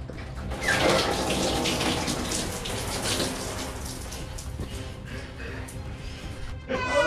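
Water is poured over a person, a close splashing gush that begins loudly and then trails into uneven dribbles and drips before a final splash near the end.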